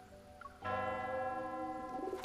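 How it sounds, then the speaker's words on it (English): A church bell tolls in a video game, one strong resonant strike rising after a faint ringing tone and sustaining with a long humming decay, heard alone at low level. "The gentle breeze carries the profound toll of a bell to a place that transcends time and space."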